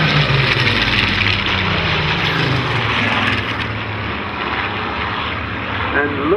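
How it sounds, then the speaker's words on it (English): Griffon-engined Spitfire XIX fighters make a low pass at an air display. A loud, continuous propeller-engine roar fills the whole stretch, easing slightly toward the end, with a voice audible over it. "Oh no, we have the Griffons making another pass."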